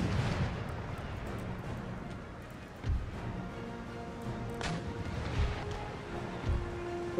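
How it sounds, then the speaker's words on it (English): Ship broadside cannon fire in the naval battles of Empire Total War, heard as several muffled booms scattered through a steady rumble of sea and battle ambience, moderately distant and not very loud. "while the broadside gets ready."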